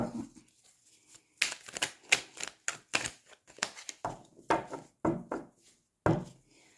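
Tarot cards are shuffled by hand in a quiet room, a run of crisp riffling bursts and soft slaps with short pauses between them, close and clear.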